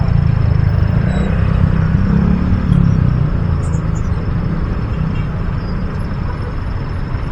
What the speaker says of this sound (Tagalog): traffic dito ngayon